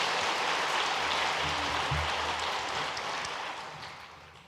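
Congregants at a Korean Sunday worship service give a big round of applause for the elders, a thick, even patter of many hands that gradually tapers off toward the end.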